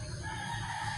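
Chickens on a farm where someone is feeding a large flock, a brief close burst of clucking and crowing calls over steady background noise.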